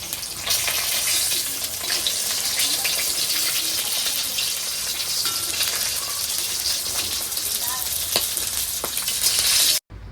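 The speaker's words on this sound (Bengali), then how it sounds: "তো যাই হোক, মাছটা ভেজে নিচ্ছি" Fish sizzles and spits steadily as it fries in hot oil in a wok in a home kitchen, a loud continuous crackle running close and unbroken for the whole stretch before cutting off at the very end.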